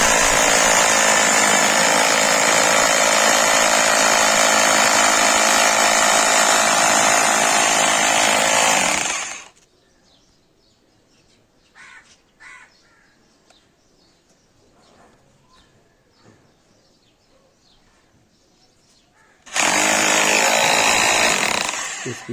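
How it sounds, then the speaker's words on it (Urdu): A Tiger TGP 226 hammer drill in hammer mode bores into stone, a loud, close, continuous grinding roar for about nine seconds, then near silence with faint background sounds and brief taps, before the drill starts again abruptly. "تو میں ڈرلنگ سٹارٹ کروں گا۔"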